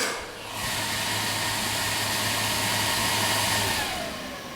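A loud, steady whooshing fan roar with a low hum beneath it from the cooling fan of an ALLPOWERS R2500 portable power station, gradually easing as it winds down.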